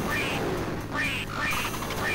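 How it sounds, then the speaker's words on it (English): Repeated cartoonish duck quacks in the Wacky Wheels duck shoot mode of an MS-DOS game, several short calls in a loose rhythm over a continuous game background. "You have 2 minutes to blast as many ducks as you can."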